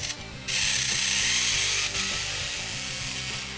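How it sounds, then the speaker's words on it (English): Screw being undone on a Nerf Barricade RV-10 blaster, heard as a close, continuous ratcheting click of a driver turning, steady and loud throughout. "So I'll undo that screw."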